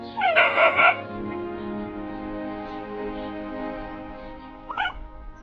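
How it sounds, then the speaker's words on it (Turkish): A young dog gives a short burst of high yips near the start, then a quiet pause, then one brief whimpering yelp near the end. "Yavru bir köpek geliyor yanımıza, oynuyor bizimle."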